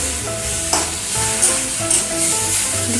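Bottle gourd stalks stir-fried with a little sugar in a pan give a steady sizzle, with spatula scrapes and tosses about every half second.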